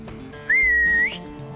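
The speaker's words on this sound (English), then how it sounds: "doesn't your alligator come when you whistle?" A single clear human whistle, a sustained rising then steady note lasting about half a second, close by over faint background noise.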